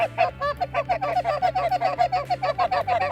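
Canada geese honk in a steady, rapid series of loud, close calls over a decoy spread during a goose hunt, with a low engine-like hum underneath.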